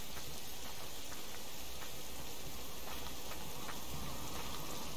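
Steady rain in the video game Subsistence patters on a surface, a soft continuous hiss with scattered drop ticks, no voices.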